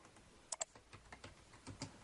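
Fast keystrokes on a computer keyboard at a Linux terminal, a few sharper clicks early then a steady light clatter of typing, close and quiet with no talking.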